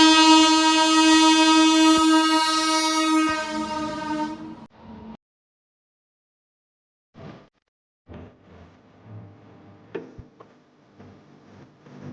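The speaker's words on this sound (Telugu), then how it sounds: "సో మనకు ట్రైన్ వస్తుంది." A train at a Hyderabad railway crossing sounds a long, loud, steady horn that cuts off, followed by a silent gap and then scattered rumbling and clanks.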